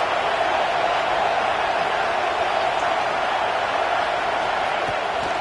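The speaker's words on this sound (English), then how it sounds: "Listen to this crowd just shaking the girders of this place, trying to help their defense." A huge American football stadium crowd in Miami roars continuously to help the defense, a dense, steady wall of noise that stays loud and unbroken throughout.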